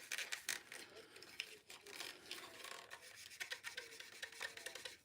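A Scotch-Brite pad is rubbed against shiny pink plastic, giving a close, continuous, raspy scrubbing in rhythmic strokes with brief pauses.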